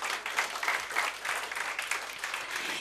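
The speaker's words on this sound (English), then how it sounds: "Everybody clap." An audience claps together at a talk, a dense continuous patter of many hands at moderate distance that holds steady throughout without a break.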